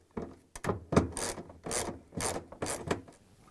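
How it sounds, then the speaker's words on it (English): A 10mm socket wrench tightens a bolt on a Samsung washer, making a steady series of about six close ratcheting strokes, each a short scraping rasp with pauses between, without voices. "Start it manually and then continue with the 10mm socket wrench."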